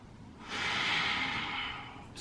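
A single long, slow breath during a held yoga pose, a soft close airy exhale swelling and fading over a couple of seconds, with no speech.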